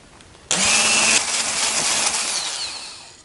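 An electric mixer whips colored whipping cream for a cake decoration, starting abruptly with a loud, steady whirring drone close by that carries on alone and tapers slightly.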